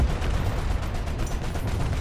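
Tank cannon and gunfire from a Cromwell V in War Thunder, a dense, booming rumble of repeated shots and mechanical clatter filling the short stretch, loud and close with no talk.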